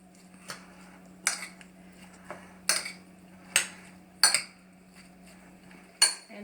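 Tomatoes stirred in a pot with a metal utensil, a series of sharp clinks and scrapes spaced about a second apart over a low steady hum, close and fairly quiet, no talking.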